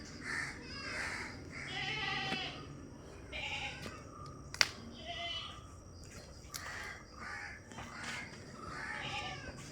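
A large meat goat bleats repeatedly, several wavering calls spaced a second or two apart over quiet background noise.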